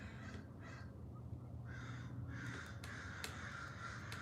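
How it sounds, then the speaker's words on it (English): Several crows caw outdoors in loud, harsh bursts, a few calls close together then more spaced out, with steady background hiss and no talking. "the murder of crows is circling again"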